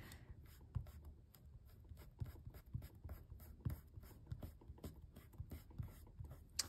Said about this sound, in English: I'm gonna keep erasing a little more just to show you guys how powerful these can be.